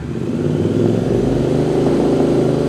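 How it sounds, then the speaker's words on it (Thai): A 2020 Royal Enfield Interceptor 650 with about 6,000 km on it revs up close by, its twin exhaust giving a steady, loud, throaty drone that stays strong for almost three seconds. "มาฟังเสียงท่อคันนี้กันครับ"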